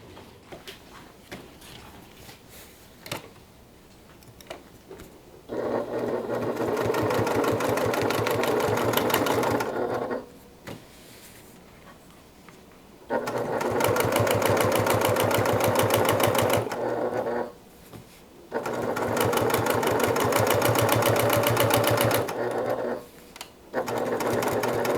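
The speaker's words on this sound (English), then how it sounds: "we're going to top stitch across" Sewing machine topstitching across a garment lining, running in three long steady bursts of rapid, even stitching separated by brief pauses, close and loud with no talking.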